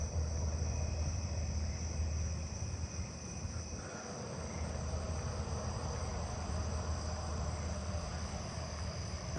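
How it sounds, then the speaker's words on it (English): Narrow-winged tree crickets trill in a continuous, dense chorus outdoors, a steady high-pitched buzz with no breaks, moderately loud and unaccompanied by voices. "I hear narrow-winged tree crickets over there."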